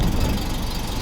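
A Vauxhall Carlton CDX idles smoothly at low revs, a steady, even engine hum heard up close and alone.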